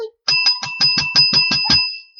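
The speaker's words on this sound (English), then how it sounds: "a bell." Sound-effect bell ringing eight quick, evenly spaced strikes with bright metallic ringing tones, loud and close, followed by a brief lingering ring and silence.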